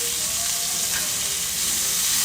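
Meat sears over high heat, giving a loud, dense, continuous sizzle that stays steady throughout with no break.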